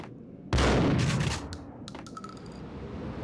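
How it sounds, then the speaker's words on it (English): Gunfire in the video game Max Payne blasting a wall apart: a loud, dense burst of shots with crashing debris, followed by scattered smaller impacts and crumbling bits trailing off as the noise settles. "Nothing like shooting a wall to bits."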